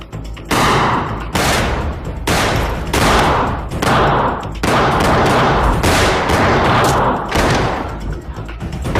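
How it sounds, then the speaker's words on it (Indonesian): Rapid bursts of gunfire ring out in a shootout scene from an Indonesian gangster film, loud repeated volleys with short gaps between them, no talking. "baku tembak pun tak terhindarkan lagi"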